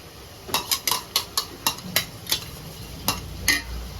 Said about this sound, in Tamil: இப்போ இது எல்லாம் ஒரே வாட்டி நல்லா கிளறிக்கோங்க